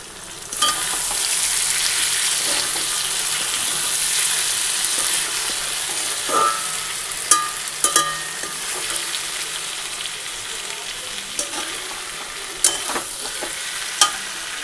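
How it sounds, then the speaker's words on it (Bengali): Continuous loud sizzling of mixed vegetables frying in a pan with ground cumin added, broken by occasional sharp clinks and scrapes of a utensil stirring, no talking. "তো এই যে সবজি ভাজা হয়ে গেছে, একটু জিরার গুঁড়ো দিয়ে একটু ভেজে"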